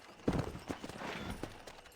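A few clopping hoofbeats of a horse in Red Dead Redemption, close and moderately loud, in an uneven trotting rhythm.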